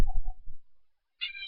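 House cat meowing close to the microphone: a low, muffled vocal sound first, then after a brief silence a sharp, higher-pitched meow at the end.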